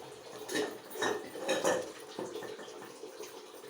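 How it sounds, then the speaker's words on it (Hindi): Pakoras go into a pot of kadhi, giving a few soft clattering knocks and wet stirring sounds in three quick bursts, then quieter shuffling. "अब कढ़ी में मैं पकौड़े ऐड कर रही हूँ।"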